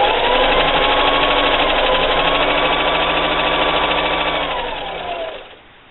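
A sewing machine stitching a bandana bib runs as a steady, loud mechanical whir with an even motor hum close by, holding for several seconds before slowing and stopping near the end.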